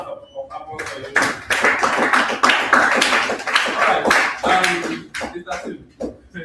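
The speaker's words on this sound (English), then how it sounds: "Another round of applause for you." A modest group at a live business training session claps in a round of applause, with distinct, uneven hand claps rising quickly and thinning toward the end.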